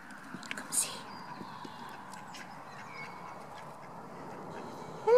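Ducks quack faintly around an allotment pond, a few brief calls over soft outdoor background noise, with a louder burst at the very end.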